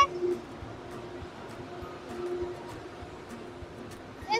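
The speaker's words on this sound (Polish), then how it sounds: "Wjeżdża pociąg." A train rumbles into Berlin Hauptbahnhof station with a continuous low mechanical roar, some clanks and squeals on top, and a faint voice in the background.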